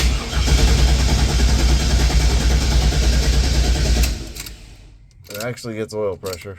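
A Chevelle with an LS swap runs loud and close with a rough, steady engine roar that stops suddenly, after which someone speaks briefly in the quieter tail.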